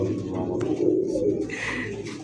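A matched pair of red-faced, pink-beaked pigeons coo in low, steady burbling calls up close, with a faint higher voice briefly rising near the end.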